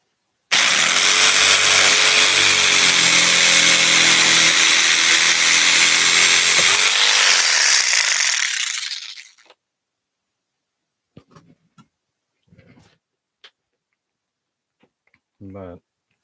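A Milwaukee Sawzall reciprocating saw cuts steadily and loudly for about nine seconds, a continuous buzzing rasp that then stops, followed by scattered faint clicks and handling noises.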